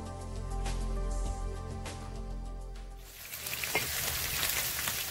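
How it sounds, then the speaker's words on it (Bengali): Mrigal or rohu fish frying in a generous amount of hot oil over medium-high heat, a loud broadband spattering sizzle that swells sharply partway through, with low background hum and no talk. "মৃগেল মাছ এবং রুই মাছ ভাজতে প্রচণ্ড রকম ফোটে"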